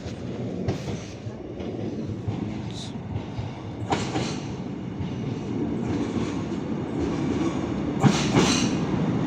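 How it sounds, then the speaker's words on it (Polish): A train pulling into a station on the Bydgoszcz–Piła–Chojnice line, a steady loud rumble of rolling wagons with brief brighter wheel and brake squeals near the middle and end, continuous and fairly close. "Ale zapowiedzieli, że wjeżdża mój pociąg."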